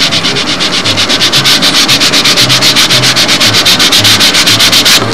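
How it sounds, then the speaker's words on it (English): Loud, close sanding with several layers of sandpaper wrapped on a rubber sanding block, shaping a balsa wing for a Windy Tigercat model plane: fast, regular back-and-forth strokes in a steady rhythm, no talking. "just put several layers of sandpaper on there"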